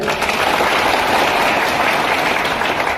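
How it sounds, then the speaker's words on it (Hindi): Loud, sustained applause from a crowd at a factory safety week closing ceremony, a thick, even wash of many clapping hands lasting a few seconds without speech. "इसलिए ऐसे लीडर लोगों के लिए, मैनेजमेंट के लिए जोरदार तालियां हो जाए।"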